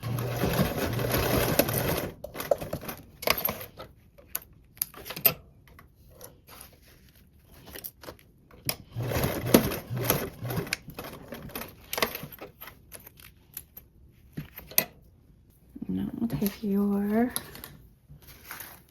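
A sewing machine basts fabric pieces for a travel bag pattern in several short bursts of rapid stitching chatter separated by pauses, close and fairly loud, with a person talking briefly near the end.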